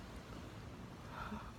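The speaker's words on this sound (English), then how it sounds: "It's like really windy It's outside. so windy." Wind blows outside by a swimming pool, a steady low rumbling gust buffeting the microphone, with no voices.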